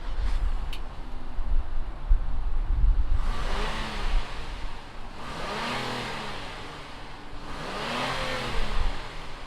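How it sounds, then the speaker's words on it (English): A 2020 Acura TLX A-Spec V6 fires up and idles, then its engine is blipped in three rising and falling revs, loud and close with no talk over it. "fire up this TLX and see what it sounds like"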